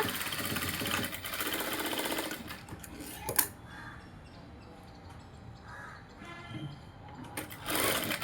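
A sewing machine running a double stitch on a small girl's princess-cut dress, with a short buzzing run at the start and again at the end, fairly quiet, separated by a sharp knock and low background noise.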